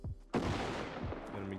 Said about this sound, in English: I hit him twice with a Tommy gun